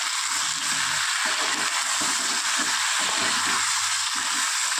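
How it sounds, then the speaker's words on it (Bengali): Chunks of potato and raw green banana frying in oil with salt and green chilies, a constant bright sizzle with soft irregular stirring thumps beneath it. "দিয়ে আলু কাঁচকলাটা লাল করে ভেজে নেব।"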